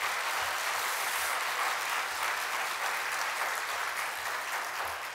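A church congregation at a Sunday service applauds steadily for several seconds, a dense, even wash of clapping hands filling the room with no voices over it.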